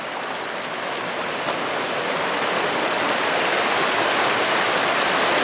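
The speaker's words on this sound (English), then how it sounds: "And here's Surprise Creek coming in." Surprise Creek pouring into the Simpson River along a gravel beach in backcountry near Assiniboine, a steady, loud rushing wash of water that swells slightly as it draws closer, with no voices.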